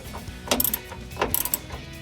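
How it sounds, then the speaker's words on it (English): A ratchet wrench loosening 15 mm bolts on the rear bumper of a 2009-2018 Ram 1500, heard close as two quick bursts of rapid clicking separated by a short pause. "We'll go ahead and remove these two 15 millimeter bolts."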